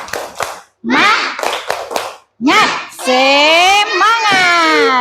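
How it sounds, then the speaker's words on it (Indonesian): Children in a classroom clap a rhythmic spirit clap in short bursts, in time with an adult teacher's spoken prompts, while young voices chant along between the claps. "Coba anak ibu tepuk semangat."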